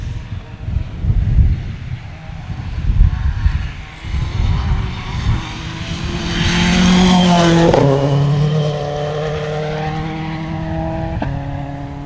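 Two-litre production-based rally car on a Border Counties special stage accelerating hard away up a straight, engine revving loud and climbing through gear changes, close at first then pulling away.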